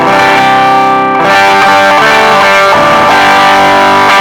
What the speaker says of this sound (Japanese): で、ここから歪みですね。